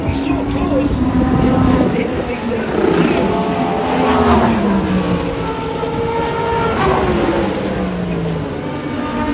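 Race cars on the final lap of the 6 Hours at the Glen endurance race roar past one after another, engine notes rising and falling in overlapping sweeps, loud and sustained against a busy trackside crowd background.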